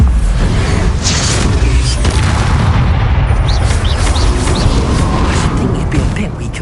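Bombarda explosion spell in Hogwarts Legacy, heard as loud, continuous booming blasts and rumbling battle noise layered densely over the whole stretch, with sharp cracks poking through.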